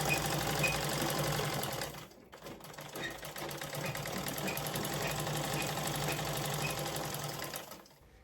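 A sewing machine joins the side seams of a blouse cut from a saree, a close, even mechanical hum with a fine rhythmic clatter, pausing briefly near two seconds before running steadily again and stopping at the end.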